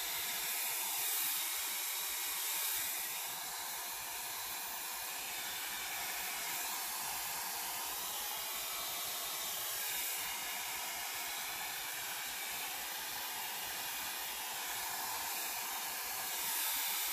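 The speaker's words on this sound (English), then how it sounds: "use a regular blow dryer, low heat" A regular blow dryer runs on low heat over alcohol ink on Yupo paper, producing a continuous close airy hiss and whoosh that stays steady for about seventeen seconds with slight swells.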